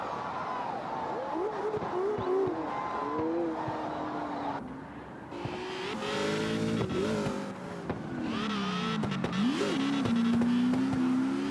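An old BMW drift car at an open practice session revs and slides, its engine rising and falling with tire noise across the clip, loud and close, with faint voices underneath.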